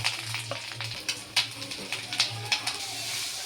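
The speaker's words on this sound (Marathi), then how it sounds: "आता आपण एक चमचा तूप घेऊया आता विरगळल्या त्यात आपण खोबरं टाकूया आणि गूळ टाकायचं" Coconut and jaggery cooking in ghee for a modak filling, with a soft steady sizzle broken by scattered scraping and stirring taps throughout.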